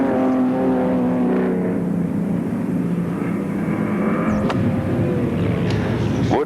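Sprint cars racing around the Speedway Park oval in 1980, a steady loud engine roar with layered harmonic drone and rising pitch as cars pass, continuous throughout with no talk.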